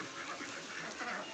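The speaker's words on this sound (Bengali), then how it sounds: "এর ভিতরে হাঁস আছে" Ducks quack steadily in a pigeon loft, a dense, continuous chorus of nasal calls close by with no talking over it.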